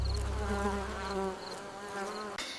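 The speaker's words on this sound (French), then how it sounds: "L'abeille bourdonnait doucement en chantant." A bee buzzes in a garden with a steady, close drone that wavers in pitch, set against soft music and a few light chimes, ending in a brief musical flourish.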